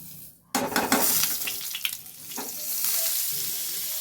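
Butter hits a hot pan while cooking paneer and bursts into a loud sizzle, with a few scraping stirs and clinks, then settles into a steady, bright frying hiss.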